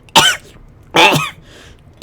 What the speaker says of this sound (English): That was me actually coughing, but it sounded pretty good, didn't it?